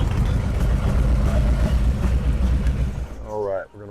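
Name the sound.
Harley-Davidson Street Glide 128 engine idling, shut off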